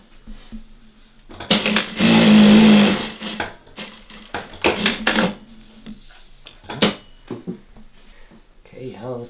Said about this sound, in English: This machine cuts its thread and automatically lifts its foot.